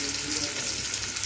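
Onions frying in a hot wok, a dense, steady close-up sizzle lasting just over a second with light stirring, no voices.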